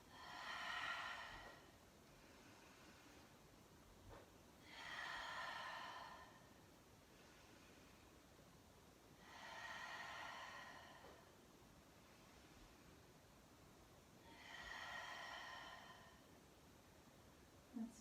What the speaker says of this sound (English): Let's breathe here for 2 more rounds